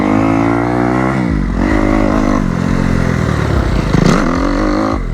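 Motocross motorcycle lapping a sand track, engine loud and near the whole time, revving and dropping in pitch as the rider shifts and accelerates.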